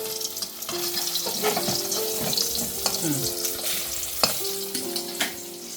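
Bhetki fish fries in hot oil in a kadai, a loud, continuous sizzle with the scrape and knock of stirring and nudging the fish throughout.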